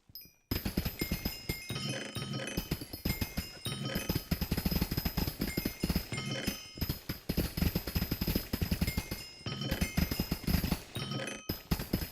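Mining drill in Hypixel Skyblock, Minecraft, grinding through gemstone blocks as rapid repeated block-break clicks and crunches in bursts, with short pauses between, loud and close.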